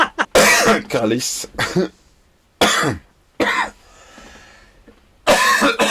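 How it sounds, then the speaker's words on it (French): A woman has a coughing fit, with harsh, close bursts of several coughs separated by short gasping pauses and a little speech. "emportée par ma toux"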